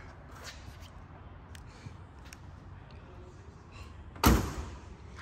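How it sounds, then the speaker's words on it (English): A single solid thump of a car door shutting close by, standing out against a quiet background. "door closed real nice."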